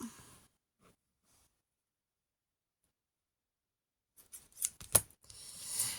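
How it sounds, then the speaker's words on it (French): A few quick snipping cuts of scissors through scrapbooking paper near the end, after a long quiet stretch with soft breaths at the start. "ciseaux, on va couper droit."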